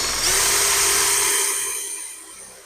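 A power drill with a metal-cutting bit spins up with a high whine as it bores into wood, then winds down and fades out after a couple of seconds.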